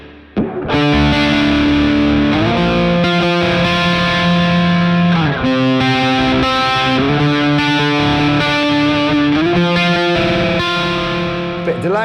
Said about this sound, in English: Do you want a different type of reverb?